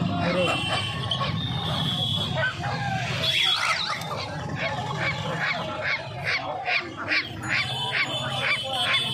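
Ducks and chickens at the Uluberia Saturday poultry market crowd together, with loud repeated honking quacks and squawks over a busy background where people talk nearby.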